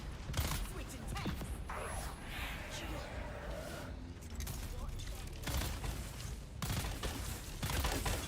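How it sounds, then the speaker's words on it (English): Energy weapon fire in the video game Dune Awakening, bursts of sci-fi shots breaking an enemy shield, repeated sharp blasts amid dense combat noise, with a voice talking over parts of it. "I'm shooting shooting him with an energy weapon, which breaks his shield"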